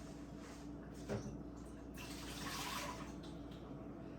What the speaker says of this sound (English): put some more water in there. Just give them a little rinse, make sure they're clean